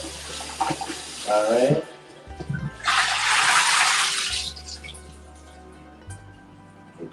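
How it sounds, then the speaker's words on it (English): Water from a tap rinses lamb chops washed with vinegar, pouring in a steady rushing burst for a couple of seconds between clinks and handling. A voice speaks briefly. "So we're washing it with some vinegar."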